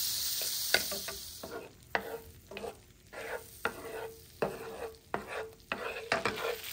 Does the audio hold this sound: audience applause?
no